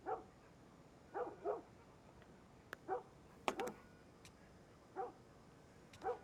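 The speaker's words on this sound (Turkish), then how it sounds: "Köpek sesi." A dog barks in The Last of Us Part I, in short separated bursts, some doubled, fairly distant and clear against a quiet background.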